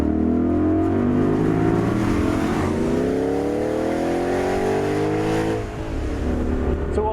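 A Tushek Renovatio T500 supercar engine revs up hard, its loud, close drone sweeping steadily higher through the gears with a brief dip near the end, and no talking over it.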